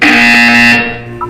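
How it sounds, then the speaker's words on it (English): A loud, harsh buzzer blares steadily in Portal 2, then cuts off abruptly after about a second, with no voices. "When you hear the buzzer, look up at the ceiling."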